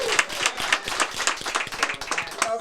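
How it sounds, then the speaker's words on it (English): Hand clapping at a podcast recording, a quick irregular burst of sharp claps from a few people, close and fairly loud, with light background murmur. "So I would like to clap for you guys."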